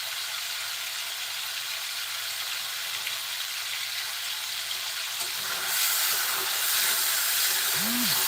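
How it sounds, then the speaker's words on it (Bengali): Prawns frying briefly in oil in a pan, a steady soft hiss and sizzle that grows a little louder toward the end, with a faint metallic scrape, no talking. "দুই মিনিটের জন্য মাছটা একটু ভেজে নিব"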